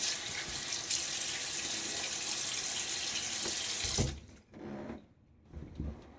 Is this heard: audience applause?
no